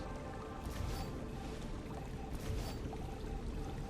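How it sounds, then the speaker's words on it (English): Steady running water in the survival game StarRupture, a continuous broadband rush with no talk over it, staying even and moderately loud throughout. "Sound of running water again."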